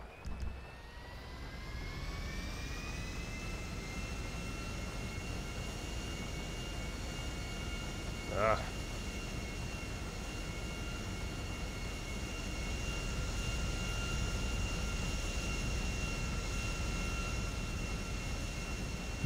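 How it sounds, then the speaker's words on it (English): An airliner's jet engines roar steadily during takeoff in the GTA 5 video game, a broad continuous rumble with a whining high tone that rises and swells slightly toward the end. "Flight attendants, be seated for takeoff."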